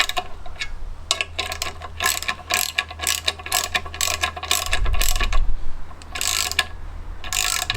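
A ratchet clicking rapidly while tightening bolts on the clutch of a classic Fiat 500, steady close mechanical ratcheting in repeated bursts with short pauses, loud and without talk.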